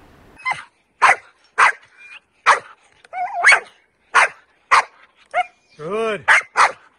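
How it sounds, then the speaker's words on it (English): Protection dogs barking aggressively at a favourite toy while holding position off-leash during training, a string of loud, evenly spaced close barks with one whining, yelping stretch near the end. "hold themselves while barking actively and aggressively at their favorite toy."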